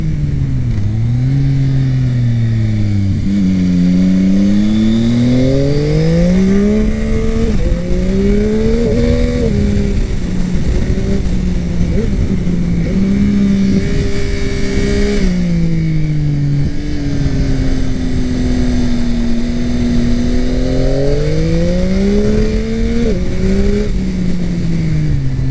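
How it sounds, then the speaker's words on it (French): A 2021 Yamaha MT-09 SP triple rides along with its engine revving up and down in sweeping waves, loud and close for the whole stretch, while wind and road roar run steadily underneath and faint exhaust pops come through during the engine-braking phases. "Vous entendez les petits retours de flamme"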